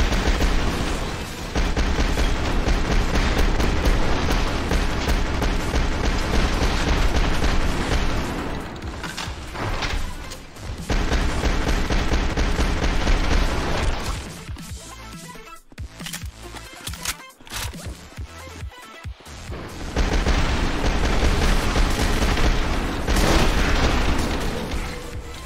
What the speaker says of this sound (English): Oh, I can also shoot during the cutscene.